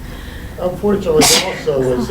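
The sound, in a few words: sneeze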